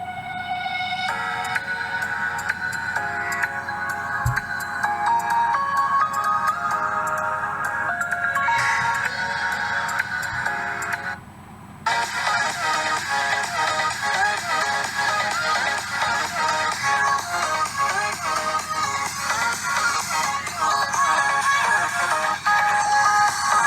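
Music plays through the small built-in speaker of a Samsung Galaxy J7 (2015) running a custom ROM, sounding thin and tinny; it cuts out briefly near the middle and then returns, steady and close.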